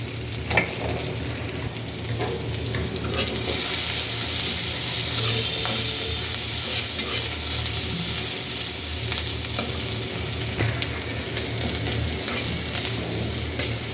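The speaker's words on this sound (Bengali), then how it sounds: "রসুন আর পেঁয়াজ কুচিটা দিয়ে দিলাম" Chopped garlic and onion fry in a pan over cumin while dal with Malabar spinach is being cooked, giving a steady, close sizzle with faint stirring scrapes and no talking.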